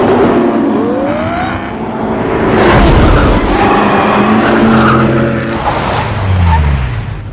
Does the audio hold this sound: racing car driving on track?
yes